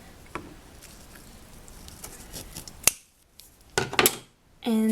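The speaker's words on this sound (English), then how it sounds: "I'm just going to cut that thread" Scissors snip thread wound around tie-dyed polymer clay, a couple of crisp close cuts standing out against a quiet background.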